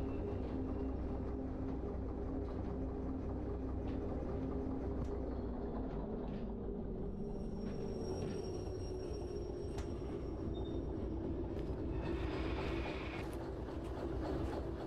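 Train running in the video game Derail Valley, a steady, loud rumble of rolling wheels and engine drone throughout, with faint high hissing and brief clanks near the end.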